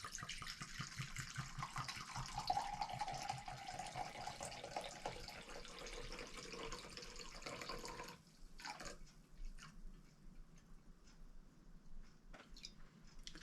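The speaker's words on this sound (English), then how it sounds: "with my measuring cup, out of this brand new 750 milliliter, I'm going to pour out 10 ounces of it." Liquor poured from a new 750 ml bottle into a measuring cup, a faint steady trickling and gurgling stream for about eight seconds, then stopping, followed by a few soft clinks and handling noises.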